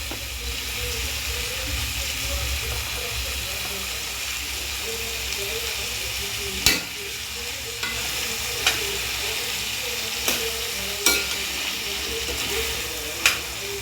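Cluster bean bhaji sautés in a pan with Kashmiri red chilli powder, a constant loud sizzle and hiss with a handful of sharp spatula clinks and scrapes spaced every second or so.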